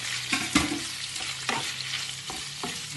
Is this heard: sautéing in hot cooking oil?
yes